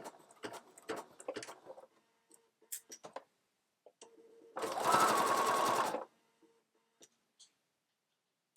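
Sewing machine stitching a neckband onto a striped knit tunic, a single loud continuous whir of about one and a half seconds, with scattered handling clicks and taps before and after.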